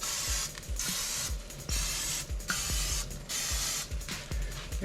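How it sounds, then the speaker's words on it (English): Spray butter is misted onto lemon pepper chicken thighs on a smoker, with several short hissing bursts separated by brief pauses and soft clicks of the nozzle, close up and with no talk. "we're gonna spray this again with some spray butter."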